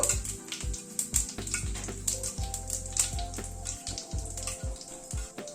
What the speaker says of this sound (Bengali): একটা তেজপাতা ফোড়ন দিলাম, একটা শুকনো লঙ্কা দিলাম, হাফ টিস্পুন সাদা জিরে দিলাম। ফোড়নটা একটু ক্র্যাক করা অবধি অপেক্ষা করব।